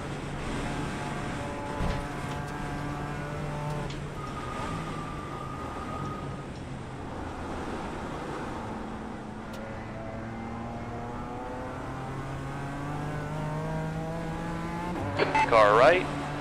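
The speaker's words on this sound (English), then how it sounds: "Dang, there's two of them coming. Faster cars approaching." Race cars in iRacing on the Nordschleife engine drone at a moderate level with rising and falling revs, faster cars closing in and a brief tire squeal near the end, while a voice talks over the sound.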